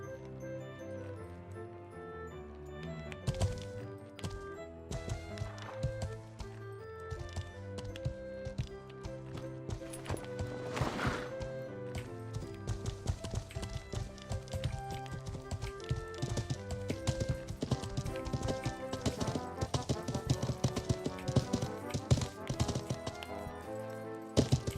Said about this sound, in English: I hear horses neighing.